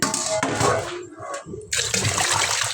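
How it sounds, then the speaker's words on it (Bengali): Fish bought from the market being rinsed whole in water before cutting, with close splashing and running-water sloshing that stops briefly midway and then resumes. "তো আগে সবগুলো মাছ কী করতে হবে, ধুয়ে নিতে হবে।"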